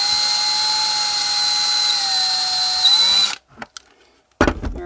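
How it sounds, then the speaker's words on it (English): A power drill fitted with a 3/32 bit whines steadily at high speed while boring a hole for a camera antenna extension, then stops abruptly, followed by a few brief whirring restarts. "So what you can do is just slowly step up in size on your drill bit."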